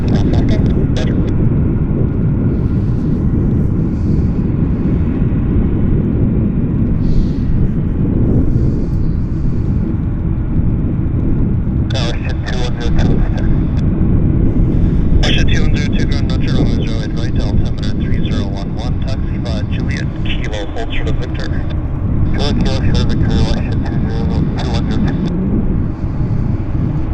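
An airliner taxis near a Boeing 787 Dreamliner on a wet day at Vancouver International Airport, its steady engine roar and whine filling the whole stretch while people talk and radio chatter comes and goes.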